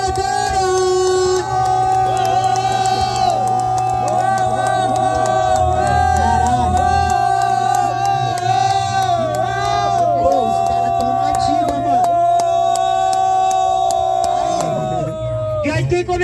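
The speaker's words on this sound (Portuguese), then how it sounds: "Muito barulho pra essa batalha." A crowd at an outdoor rap battle in Foz do Iguaçu keeps up loud, continuous cheering and noisemaking, with whoops, horn blasts and shouting voices all blended together up close.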